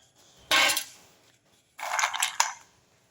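Dry rajma beans rattle into a hot pack container in two quick, crisp pours, the hard beans clattering loudly against the sides, with a brief pause between.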